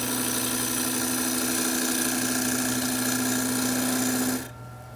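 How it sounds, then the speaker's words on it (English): Bowl gouge rounding the edge of a wooden toy top spinning on a lathe, a steady loud motor drone with a continuous cutting rasp that drops off sharply near the end. "Then use a bowl gouge to round out the edge, make it smooth, completely round."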